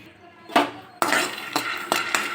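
Peanuts tossed in a dry kadai for chutney, giving several sharp metallic clinks and scrapes of nuts against the pan, close and clear, in irregular bursts with no talk.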